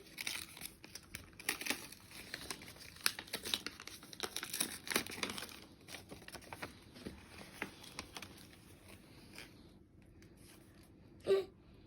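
A Christmas card envelope being opened at home: close crinkling and tearing of paper in irregular bursts, fading to quiet rustles, then one brief sharp sound near the end, no talking.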